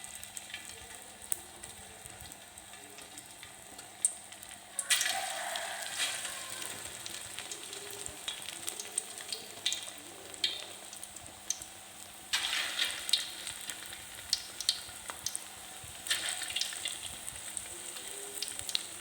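Steady crackling sizzle of Thai fish cakes frying in hot oil in a pan, swelling louder in surges as more is added, with faint kitchen clatter and no talking.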